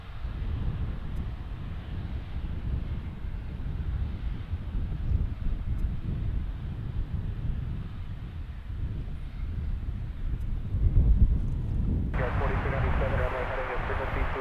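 An Airbus A380 airliner passes overhead at Chicago O'Hare, a steady broad jet roar with wind buffeting on the microphone, sustained and fairly distant throughout, with a brighter engine whine joining near the end.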